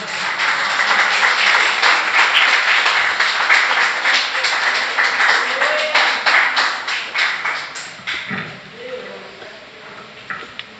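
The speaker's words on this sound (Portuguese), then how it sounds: "Você pode dar mais um aplauso ao Senhor Jesus." A church congregation at a worship service applauds, many hands clapping loudly and close, then thinning into a few scattered, separate claps that fade out near the end.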